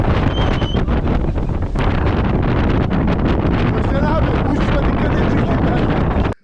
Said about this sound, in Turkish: Ne oldu ya rüzgar mı var?